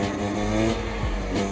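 A 300 motorcycle engine revs hard during a wheelie, a brief loud burst with pitch rising and falling as the throttle is worked.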